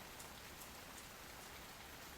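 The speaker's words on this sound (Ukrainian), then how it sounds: "Дощ дрібно сіє свої крапельки." Light rain falls steadily outdoors, a faint, even patter of fine drops with no pauses and no other sounds.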